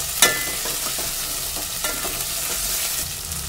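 Washed potatoes are sautéed in a pan, giving a steady sizzle broken by repeated scraping stir strokes and a sharp clack at the start.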